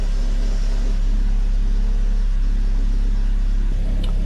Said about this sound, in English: You'll notice the noise from the tensioner gets louder when I'm in gear